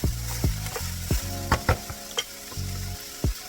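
Okra sautéing in coconut oil in a Magnalite pot, a steady sizzle broken by repeated scraping stirs and knocks of a spoon against the pot, close and moderately loud.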